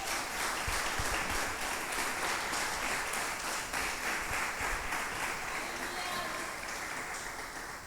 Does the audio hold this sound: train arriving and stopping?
no